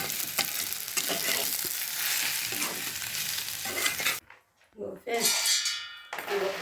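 Radish chutney ingredients frying in oil in a pan while being stirred, a steady close hiss and sizzle with scraping of the spoon, briefly dropping away before the sizzle returns; a voice talks over it.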